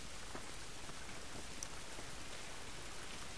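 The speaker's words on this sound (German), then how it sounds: "Dieser Regen ist nicht gut für uns." Steady rain pours in a video game, a dense even hiss of drops falling on surfaces without pause, fairly faint and with no voices over it.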